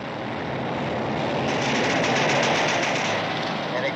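Japanese Type 96 light machine gun firing in a war movie scene, a dense, sustained rattle of rapid automatic fire, loud and continuous for several seconds.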